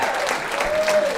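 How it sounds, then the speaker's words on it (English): An audience at a comedy show breaks into brief, dense applause, a loud burst of clapping from a crowd. "Round of applause for you."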